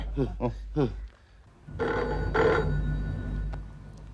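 A telephone rings at a police station in a Hindi TV comedy, with a sustained, fairly loud ringing tone that follows a few short bursts of speech at the start.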